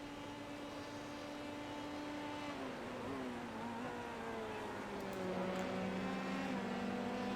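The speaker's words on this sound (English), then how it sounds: "Daniel Muth goes on to the back straight, onto the main straight to begin lap 18" Dallara F3 race car engine in a racing video game at Summit Point Raceway, a steady high engine drone that shifts pitch as it changes gear and rises slightly in loudness toward the end, with no talk.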